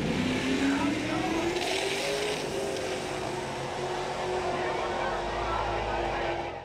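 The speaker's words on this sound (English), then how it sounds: "That's Pete in his 2001 Camaro. In this race" A 2001 Camaro's engine roars at full throttle on a drag strip, its pitch climbing steadily as the car accelerates hard, with faint voices underneath.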